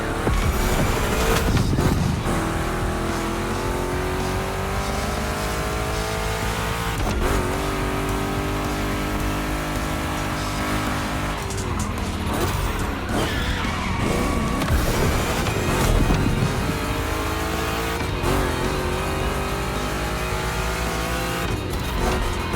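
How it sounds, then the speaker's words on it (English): Two Chevy big-block cars race, engines roaring loud and steady throughout with rising and falling revs, gear changes and occasional tire noise. "Two Chevys, two big blocks, but only one winner."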